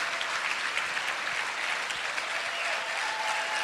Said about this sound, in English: Let's give him a tremendous round of applause, if you please.